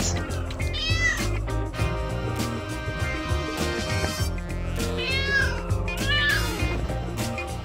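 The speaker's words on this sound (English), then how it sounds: "let's save the cat" A cat meows repeatedly in the LEGO City Undercover video game, several drawn-out, wavering cries over a busy backdrop of game music and rhythmic bass.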